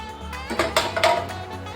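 Metal spoon scraping and clinking in a pan while chili powder and black pepper are stirred into vegetables, a few close, irregular knocks and scrapes over about two seconds.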